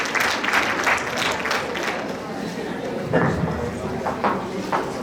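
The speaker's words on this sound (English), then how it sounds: "Can we give a big round of applause to all our women leaders, please?" A women's day celebration audience in Chicago claps for its women leaders, a broad steady patter of many hands with some voices mixed in, holding moderately loud throughout.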